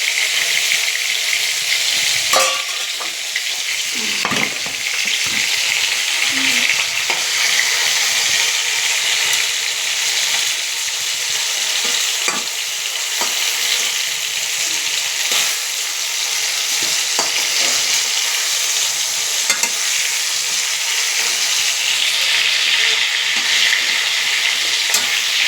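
Eggplant pieces fry together with fish in a hot pan in a home kitchen, giving a steady loud sizzle with occasional soft stirring clicks and scrapes, close up and with no talking.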